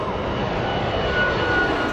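Fixed-wing aircraft engine roaring steadily, a continuous, fairly loud, unbroken drone with no voices, from a passenger plane that crashed in bad weather in Russia.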